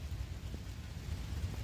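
Steady rain falls outdoors on a late night in Philadelphia, a continuous wash of hiss over a low rumble, with no voices.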